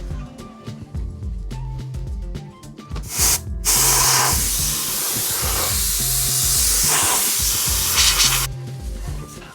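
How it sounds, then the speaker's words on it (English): An aerosol can hisses in a long, steady spray of matte black paint for several seconds, with quieter rhythmic music before and after. "I then spray painted whatever still wasn't matte black"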